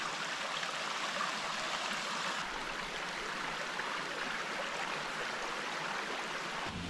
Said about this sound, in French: Joli petit ruisseau.